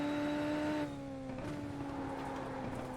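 Formula race car in a sim racing game at Road America, engine note dropping sharply as it brakes for the kink, the downshift tone falling away under steady engine drone.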